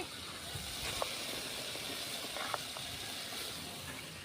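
Goat intestine curry with tomato sizzles and hisses steadily in a pan while being sautéed, a continuous close frying hiss with a few faint clinks of a utensil.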